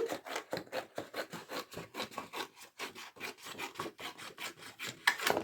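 Paper for a decoration on a baby album box is cut in rapid, rhythmic rasping strokes, close and distinct, about three per second, with a brief louder snip near the end.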